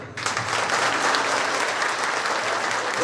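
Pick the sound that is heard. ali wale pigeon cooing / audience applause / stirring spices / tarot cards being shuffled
audience applause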